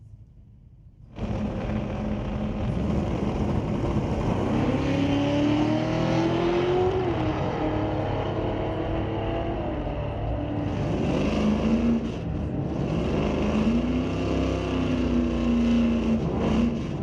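An 85 S10 and a 91 Mustang, each with a 6-liter LS engine, launch at a drag strip: loud sustained engine roar rising in pitch through gear changes, with a second wave of revving near the end.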